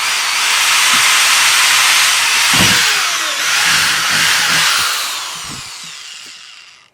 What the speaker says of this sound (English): take a 1/4 inch drill bit, and we're gonna opposite corner from our intake, we're going to drill our drainage hole